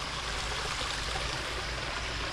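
Floodwater after heavy nighttime rain rushes steadily near a culvert, a dense, continuous roar of flowing water with no pauses and no voices.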